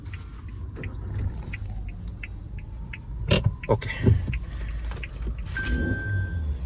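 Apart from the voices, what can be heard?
2023 Maruti Suzuki Jimny Alpha being switched on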